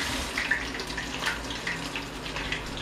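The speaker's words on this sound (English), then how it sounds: "Give me a second to wash my hands here." Hands being washed under a running kitchen tap, a steady soft stream of water with small splashes and droplet sounds, close and moderately quiet.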